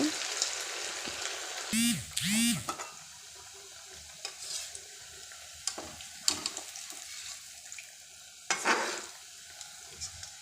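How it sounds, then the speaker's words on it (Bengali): Rice-flake puli pithe fry four or five at a time in hot oil, a continuous close sizzle with intermittent scraping and stirring bursts, and a brief high whine early on. "সমস্ত পিঠে আমি এখানে চার পাঁচটি করে ভেজে নিচ্ছি"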